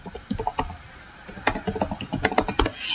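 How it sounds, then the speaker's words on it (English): Quick, irregular keystrokes on a computer keyboard while entering email account details, close and clear, clustered in bursts with a short pause in the middle and no voices. "So go ahead and type it in."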